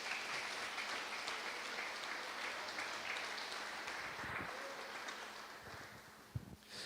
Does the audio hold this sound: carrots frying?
no